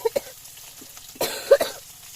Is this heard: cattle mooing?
no